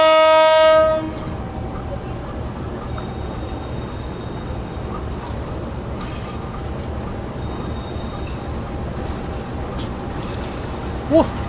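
A Sri Bilah passenger train sounds its horn briefly at the start while arriving at a station in Medan, then a steady rumble of rolling rail cars fills the rest, with faint squeals and distant noises.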